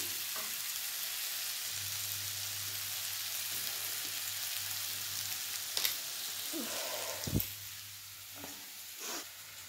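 Masala frying in a pan for a suran (elephant foot yam) dish, giving a steady, continuous sizzle with occasional stirring scrapes and clinks.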